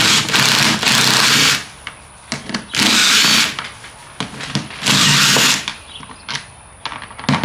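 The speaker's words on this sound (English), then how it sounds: "let's take the 3 bolts out of the window crank" A power driver spins out the three 10 mm bolts holding the window crank on a Jeep JK door. Three loud whirring bursts of roughly a second each are separated by quieter clicks and handling sounds.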